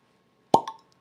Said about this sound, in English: that was a good cork pop for sure